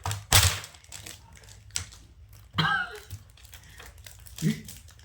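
Thin plastic film and a cardboard box are torn and jabbed open with a pen in a few sharp, crinkling bursts separated by quiet gaps, with a person talking between them.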